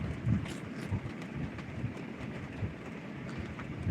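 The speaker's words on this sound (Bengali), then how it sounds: "প্রচুর বৃষ্টি পড়ছে" Heavy rain falls outside in a steady, dense broadband wash with low rumbling bursts, heard continuously and fairly close, with no talking.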